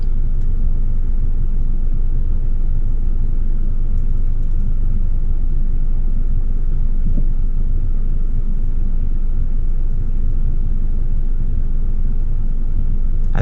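A 1997 Acura CL with a manual gearbox and VTEC-E engine cruises at low RPM, making a steady, continuous low rumbling drone from inside the car without any talking.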